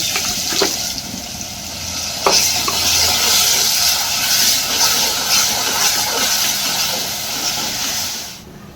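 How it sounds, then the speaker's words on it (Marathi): Green masala paste with asafoetida and curry leaves sautéed in a pan for a drumstick curry, giving a steady close sizzle and hiss with scraping stirs throughout, fading out at the end. "अशा प्रकारे कच्चा मसाला हा आपण चांगला परतून घेऊ।"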